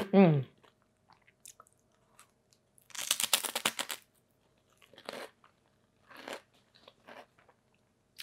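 Close, crunchy chewing of keto seven-layer dip comes in separate bursts with quiet pauses between, opening with a brief appreciative hum.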